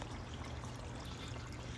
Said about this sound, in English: So water is dripping down into here